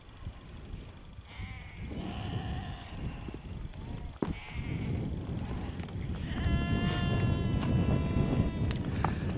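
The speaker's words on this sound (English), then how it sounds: "those sheep. I reckon they're wanting some food, perhaps." Sheep bleat repeatedly in a rural field, several wavering calls close by and overlapping, over footsteps and breezy background noise, with no voices.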